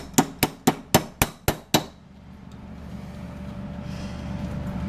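Seven sharp metallic taps from an adjustable wrench knocking a part into a Honda Accord F23 cylinder head, in a quick steady rhythm, then a low steady rumble of background noise.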